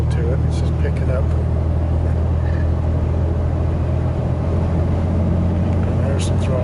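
A 2010 RAM 2500 truck engine pulls steadily in sixth gear at low revs, a continuous deep drone heard from inside the cab with constant road rumble and no break in level.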